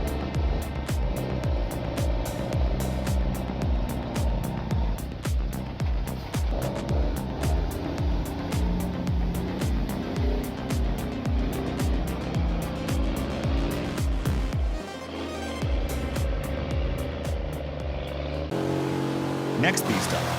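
Trucks grind up a steep, muddy mountain road with bulldozers pushing from behind, a loud, continuous engine drone with revving swells throughout, under a voice talking over it.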